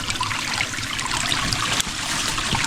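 Water trickles and streams steadily from a mountain spring in Norway, a continuous close babbling flow with no talk over it.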